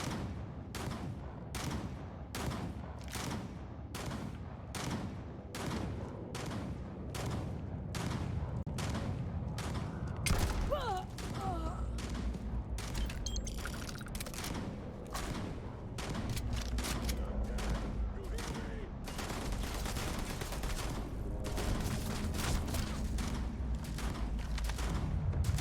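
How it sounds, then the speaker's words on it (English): Explosion and rapid weapon fire in the video game Starfield: dense bursts of gunfire repeating steadily, then a heavy blast around the middle followed by continued loud crackling fire and booms, with no talking. "That was a big explosion."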